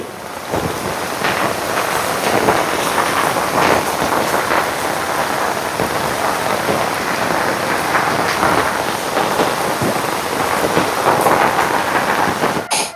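Heavy rain pours outside a house as floodwater rises into the yard, a loud, continuous broadband hiss and rush that stays constant throughout, with wind buffeting the microphone.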